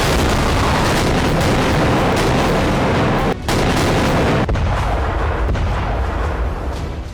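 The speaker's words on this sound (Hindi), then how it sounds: "रात के अंधेरे में अजरबैजान ने जबरदस्त रॉकेट अटैक किया" Heavy rocket barrage explosions from an Azerbaijani night attack in Nagorno-Karabakh form a continuous loud rumbling roar, dense overlapping blasts with brief dips, sustained throughout without voices.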